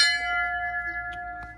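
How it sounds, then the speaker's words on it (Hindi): A temple bell in a village temple dedicated to Balaji and Bajrang is struck once. It rings out close and clear, then its bright, sustained tone slowly fades. "घंटी बजा"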